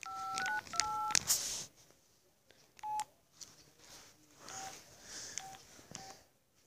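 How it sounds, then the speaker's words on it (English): A string of short electronic phone tones beeps in quick bursts, pausing and resuming at an even pace, fairly quiet with a little background noise. "That's what my ringtone is."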